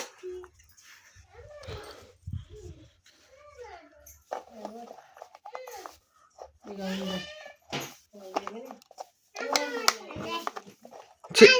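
A cat meows repeatedly in short, varied cries while a person talks nearby, with bits of handling noise between calls.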